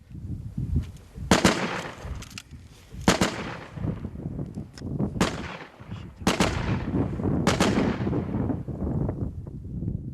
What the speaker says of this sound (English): The Russians shoot back. But the danger here is artillery.